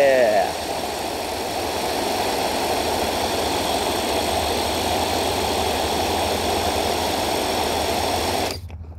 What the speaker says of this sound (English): Okay, I'm just gonna spin it now.